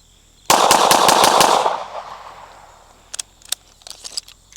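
A ported CZ P-10C pistol fires a rapid string of about seven loud, sharp shots at an outdoor shooting range, echoes decaying afterward, followed by scattered fainter distant shots.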